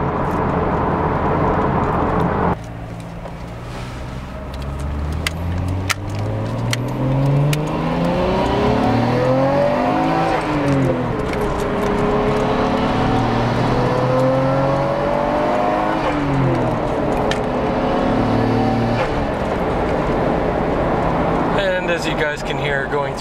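A Nissan Skyline GT-R R33 engine revs and climbs through the gears while driving, loud and close, with rising and falling harmonic sweeps of acceleration and shifts, a voice talking over it.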